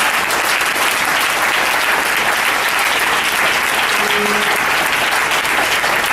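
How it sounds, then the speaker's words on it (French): Sustained, dense applause from a church congregation acclaiming the Lord, a steady wash of clapping with a faint voice briefly audible underneath. "Acclamons le Seigneur Jésus-Christ"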